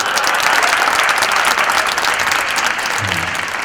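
An audience at a Gujarati stand-up comedy show applauds loudly and steadily, a dense, close wash of clapping that holds throughout and eases slightly near the end.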